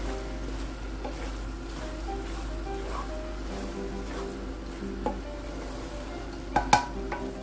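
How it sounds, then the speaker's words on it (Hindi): Carrot halwa is stirred in a pan, soft scraping and a low bubbling sizzle under background music, with a few louder knocks of the spoon near the end. "और अच्छी तरह मिक्स करेंगे।"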